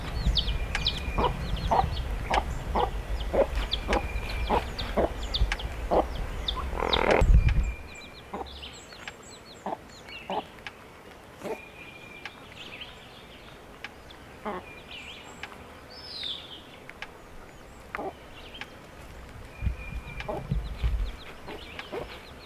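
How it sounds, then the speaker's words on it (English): A mother hen on a homestead clucks repeatedly among her baby chicks, short rhythmic clucks close by, louder in the first seven seconds, then softer with faint peeps and scattered calls continuing. "it's so much fun watching a mama hen walking around all day with her baby chicks"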